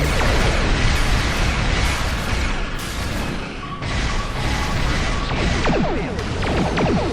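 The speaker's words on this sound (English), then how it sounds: "this is the bombardment beam" Bombardment beam explosions in the Star Trek Online space combat game form a dense, continuous barrage of crashing blasts and bursts, loud and close throughout, with a brief dip midway and no voices.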